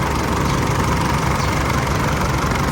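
An Isuzu truck engine runs at idle up close. The truck has a fault that sends heavy smoke out of the dipstick tube, and the engine gives a steady, loud, rumbling drone with no pauses.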